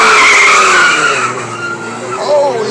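A Nissan G35 spins its wheels with tires skidding and screeching in a loud, continuous, wavering squeal that slowly fades, while engine noise runs underneath and a voice is heard faintly.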